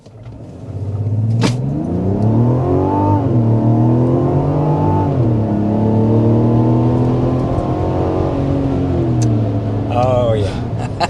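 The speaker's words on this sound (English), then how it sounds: "But first, we've got to start with a hard acceleration." A Mazda CX-70 accelerates hard, its engine rising loud and close through several climbing gear pulls with brief dips at the shifts before it settles into a sustained high drone.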